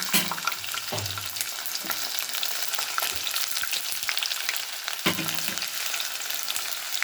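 Onion and garlic fry in a pan with a steady broadband sizzle, broken by a few scraping stirs near the start and again around five seconds. No voices are heard.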